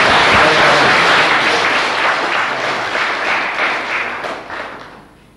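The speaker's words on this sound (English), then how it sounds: "I think we ought to give you a clap because you've done all the work." A church audience in a Devon countryside village claps loudly and steadily, the applause gradually thinning and fading out over about five seconds.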